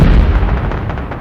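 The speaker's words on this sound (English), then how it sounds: "The explosion cracked through the corridor." A spell-cast explosion from a Hogwarts Legacy fight, a loud, heavy blast with deep rumbling booms that fill the whole short moment, close and forceful, with no talking.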